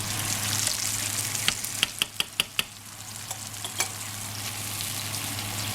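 Wine reducing in a hot electric pan gives a steady loud sizzle, and a run of sharp utensil clicks and taps comes through near the middle.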